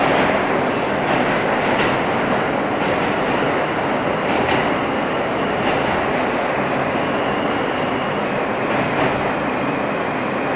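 R160 subway car on a Manhattan-bound F train running via the West End local line, heard from on board: loud steady rumble and rattle of the moving car with periodic wheel clicks over rail joints.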